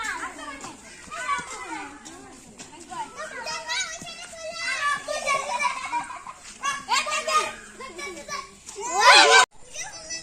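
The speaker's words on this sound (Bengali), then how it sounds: "বাচ্চা কাচ্চারা অনেক সুন্দর খেলা করতেছে" Children play outdoors in a village on an afternoon after rain, with lively chattering, calls and giggles coming in bursts, ending in a sharp, loud shriek.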